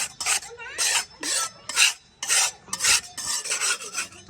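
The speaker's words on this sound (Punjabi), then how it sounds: "ਤੇ ਇਹਨੂੰ ਇੱਥੋਂ ਨਾ ਰਗੜ ਕੇ ਲਾ ਲੈਂਦੇ ਆਂਗੇ" Dried cement splatter is scraped and rubbed off a house wall in a village, producing repeated harsh rasping strokes in a steady rhythm, close and clear with no talk.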